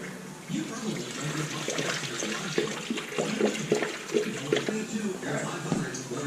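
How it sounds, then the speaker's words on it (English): Hot water pours and gurgles steadily close by through a funnel, a continuous draining rush with bubbling, while someone talks over it. "Nice thing about this funnel, you can just fill it all the way up and let it drain."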